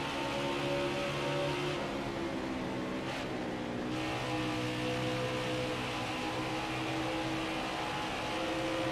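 Several stock cars roar around Dover's oval in NASCAR Heat 5, a loud continuous engine drone with shifting harmonic whine and a brief dip as one car passes, steady throughout with no talking.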